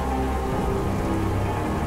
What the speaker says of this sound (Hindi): ऊपर से भरी बारिश हो रही थी